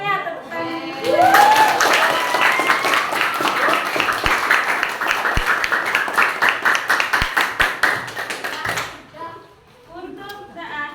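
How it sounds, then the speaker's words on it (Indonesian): A class of children claps together in a classroom, a loud, sustained round of applause with sharp individual claps, preceded by a teacher's voice and followed by talk as it dies away. "semuanya jawabannya udah nilai 100 semuanya, tepuk tangan."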